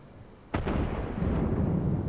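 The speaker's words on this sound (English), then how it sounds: "Cannon fire! Where did it come from?" Cannon fire in the Final Fantasy XIV Stormblood video game, a single sudden booming blast followed by a long rolling rumble that lingers, heard alone without talk.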